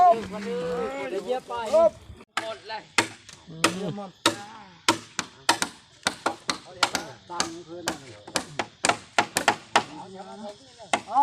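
Nails being hammered into wooden posts while a house is built: a long run of sharp, close, irregular strikes, several per second, mixed with steady talking.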